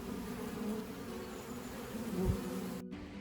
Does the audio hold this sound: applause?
no